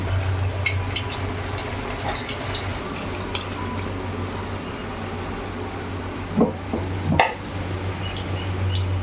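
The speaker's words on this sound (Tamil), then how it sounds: "முதல்ல தண்ணி ஊற்றிக்கலாம்." Water is poured into a pot of cooked dal while making sambar, a soft continuous splashing under a low kitchen hum, with a couple of louder clanks and sloshes toward the end.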